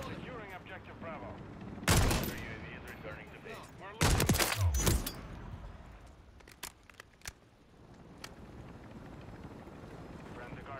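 A turret fires in a first-person shooter match, bursts of loud gunfire at about two and four seconds, then scattered fainter shots and background battle rumble, with voices speaking.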